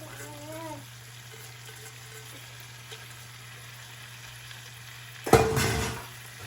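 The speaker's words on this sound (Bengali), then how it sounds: "সবজিগুলোকে ভালো করে এখন ভেজে নিব।" Chopped vegetables for Bangladeshi-style Cocola noodles go into a pan with garlic powder, giving a sudden loud burst of sizzling near the end. Before that there is a short stretch of quiet kitchen background with a steady low hum and a brief voice.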